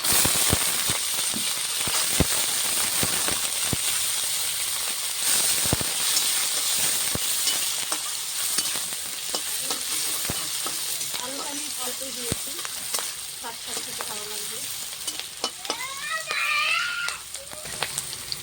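Cut, washed potatoes go into hot oil with nigella seeds and green chilies, a continuous close sizzle and hiss with scattered clatter of stirring, and faint voices and squeaky sounds surface near the end.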